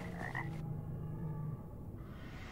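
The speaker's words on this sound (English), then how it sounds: "Hey, Frog." Frog croaks in the video game Mortal Shell: a low, steady croaking drone held for about a second and a half, fairly faint, with a brief higher tonal call at the start and no talking.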